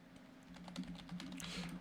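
Quick clicks on a computer keyboard, a rapid, uneven run of light keystrokes close by at low volume, with no talk.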